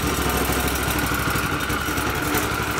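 A small mini bike engine, on its third motor, runs loud and close in a steady, rapid sputtering idle with a rough, even chug that never lets up.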